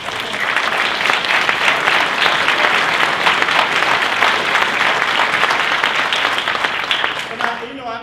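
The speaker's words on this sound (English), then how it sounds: "I can appreciate the applause" Sustained audience applause at a lecture fills the whole stretch, a dense, loud wash of many hands clapping at once that thins slightly near the end.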